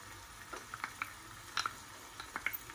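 Pieces of hen meat sear in a pot with a seasoning of onion, pepper, cumin and garlic, giving a soft steady sizzle broken by several light crackles and pops, heard alone without talk.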